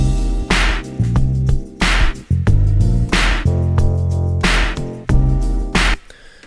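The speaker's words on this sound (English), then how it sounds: "And let's listen to the beat now." A beat made in Logic Pro X plays back loudly, with a booming bass line, a punchy kick and regular bright snare or hi-hat hits in a steady looping groove.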